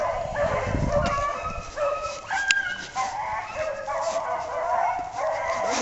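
Hunting dogs bark, yip and whimper excitedly during a hunt in Tennessee, several voices overlapping at moderate distance with a continuous outdoor background.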